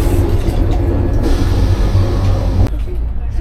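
Steady rumble and rattle of the Mithila Express (Howrah–Raxaul, 13021) running, heard from inside an AC coach; a continuous loud low drone fills the whole stretch, with a brief bump near the end.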